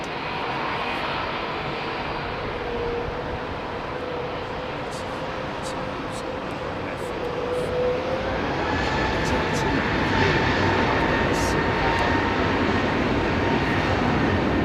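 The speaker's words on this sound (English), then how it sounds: "that 707 is Omega Air refueling," Omega Air Boeing 707 converted into a tanker departs Heathrow runway 27R, a steady loud jet roar that builds and rises in pitch midway, with faint voices underneath.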